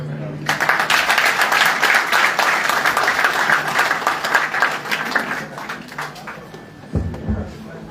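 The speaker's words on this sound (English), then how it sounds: "Another round of applause for the newest Inspector General of Police, Federal Republic of Nigeria." An audience at a Nigerian police handover ceremony gives sustained applause for the new Inspector General of Police. The clapping starts abruptly, stays loud for several seconds, then thins out into scattered claps and background noise near the end.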